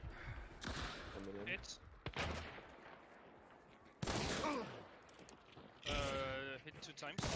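Bursts of rapid shooter-game gunfire crackle in short volleys, some sharp single shots among them, while an excited commentator talks over the action.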